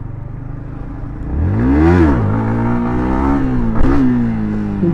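A modified Yamaha MT-15 motorcycle revs hard for a wheelie, its engine pitch climbing sharply, dipping, then holding a strong steady drone with a second blip near the end, loud and close with no talk.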